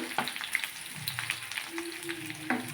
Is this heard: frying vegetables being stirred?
yes